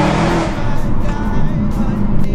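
Supercharged BMW M3 driving along, its engine a steady loud drone with some road noise, heard from inside the car with no talk.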